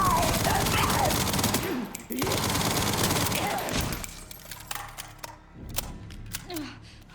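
Rapid automatic gunfire from a weapon in the video game Resident Evil Requiem, loud sustained bursts broken by short pauses, then scattered single shots with faint speech underneath.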